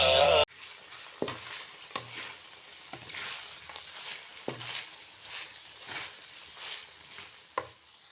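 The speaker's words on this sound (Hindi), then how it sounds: "पैन में ऑयल डालते हैं और फिर भिंडी डाल के दिखाती हूँ। इसमें डाल के ये फ्राई कर लेंगे।" Okra (bhindi) frying in oil in a pan gives a close, steady sizzle punctuated by regular sharp clicks of stirring, heard alone after a short burst at the start.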